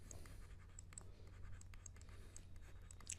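Pen strokes scratch across paper or a board while a math equation is written out, a run of short quiet scrapes in an irregular rhythm, close by and heard alone.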